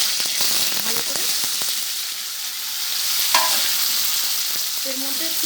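Pieces of paneer frying in hot oil for a capsicum paneer curry, making a steady, close sizzle with occasional sharper crackles and pops and faint background talk.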